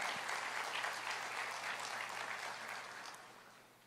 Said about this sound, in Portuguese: Pode aplaudir o Senhor, é verdade.